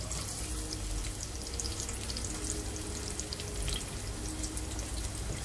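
Sliced onion with a bay leaf frying in hot oil for broken wheat pulao, a steady close hiss and crackle of sizzling that continues without a break and with no talking.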